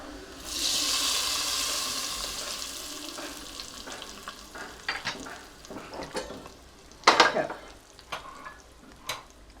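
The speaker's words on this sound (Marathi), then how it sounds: "आणि आता ही फोडणी आपण देतोय ह्याच्यावर" A garlic tempering poured over dal palak bursts into a loud hiss that slowly fades. Clinking spoon-and-pot stirs and scrapes follow, growing sharper toward the end.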